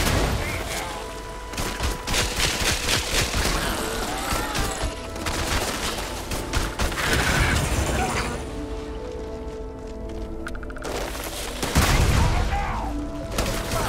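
Explosions from bombing in the video game Starfield, dense, loud booms and crackling blasts over a continuous roaring game soundscape, with a heavy thump near the end.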